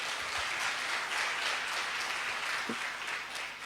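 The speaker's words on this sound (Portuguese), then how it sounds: "Pode dar uma salva de palmas a Jesus." Church congregation applauding, a soft continuous wash of clapping that fills the room evenly at a steady moderate level.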